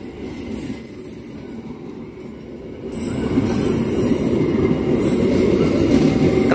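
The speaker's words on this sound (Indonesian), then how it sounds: "Kereta api Argo Willis sudah melintas di sini." An Argo Wilis passenger train rolls past close by near Surabaya, a loud continuous rumble of wheels on rail with high squealing that swells in the second half, with no talk over it.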